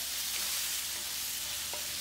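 Steady broadband sizzle of sambal with potatoes and anchovies frying in oil, with a few soft scrapes of a spoon stirring through it; continuous and close, no talking.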